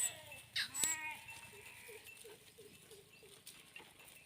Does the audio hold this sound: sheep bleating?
yes